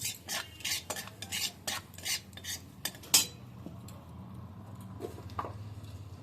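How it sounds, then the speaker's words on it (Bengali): A spoon scrapes and clinks repeatedly against a pan while ground coriander fries in oil over low heat, quiet irregular stirring taps with a faint sizzle beneath. "ধুনের গুঁড়ো এবার এটাকে ভেজে নিচ্ছি"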